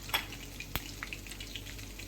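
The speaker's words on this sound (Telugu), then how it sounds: "దంచిన వెల్లుల్లిపాయలు ఎండుమిర్చి వేసుకొని బాగా ఫ్రై చేయాలి" Crushed garlic and dried red chillies frying in oil, a faint steady sizzle with a few small pops and one sharp tick, close by and quiet.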